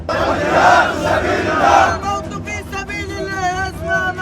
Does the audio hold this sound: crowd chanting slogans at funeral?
yes